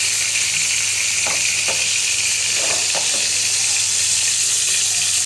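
Pieces of katla fish fry in hot oil, a loud, constant sizzle throughout, broken by a few scraping strokes as the pieces are turned over.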